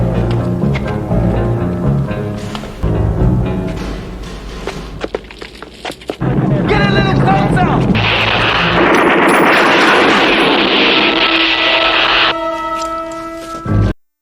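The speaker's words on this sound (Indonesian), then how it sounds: "Rambo pun lekas menembaki kantor polisi tersebut." Gunfire from the film First Blood as Rambo shoots up a police station, heavy booming shots and thuds with rapid bursts, then a sustained mix of loud effects and score.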